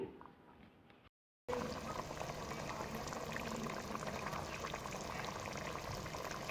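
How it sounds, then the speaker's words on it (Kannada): Spinach rice mixture bubbling at a steady boil in a cooking pot, loud and close, continuous after a brief moment of silence near the start. "ಇದನ್ನು ಇವಾಗ ಮಿಕ್ಸ್ ಮಾಡಿ ಒಂದು 2-3 ಮಿನಿಟ್ಸ್ ಇದು ಬಾಯ್ಲ್ ಆಗಲಿ"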